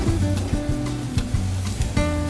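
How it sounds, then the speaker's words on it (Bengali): Potato and papaya pieces frying together in a pan, a loud close sizzle broken by repeated scraping stirs of a spatula in a quick uneven rhythm. "পেঁপে আর আলু একসাথে ভাজা হয়ে যাবে।"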